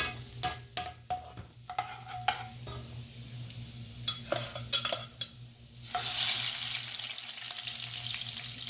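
Whole spices crackle and sizzle in hot oil with sharp clicks and stirring scrapes, then a steady hiss rises and continues to the end.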